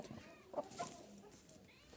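Chickens cluck nearby in a few short, uneven bursts over a low, rustling background.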